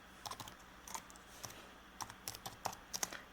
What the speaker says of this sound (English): you can type in the type of paint